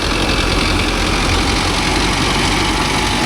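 A Mahindra 605 DI tractor engine runs in fourth creeper gear on farmland, holding a loud, continuous, even drone with no change in pitch or breaks.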